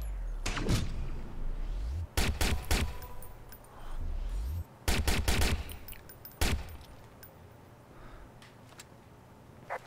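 Bursts of gunfire in the video game Watch Dogs come in several clustered volleys, loud and close, separated by short gaps, with a steady background hum underneath.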